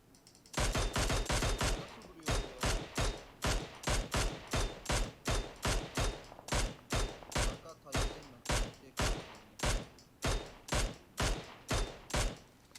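Rapid bursts of automatic gunfire in the shooter game PUBG Mobile, a dense, loud, close string of evenly spaced shots that runs steadily for about thirteen seconds with no talk over it.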